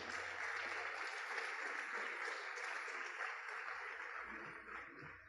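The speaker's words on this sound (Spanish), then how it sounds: "¿Cuánto le dan aplausos al Señor por su palabra?" A church congregation applauds at a Friday service, a dense, steady wash of clapping at moderate distance that thins slightly toward the end.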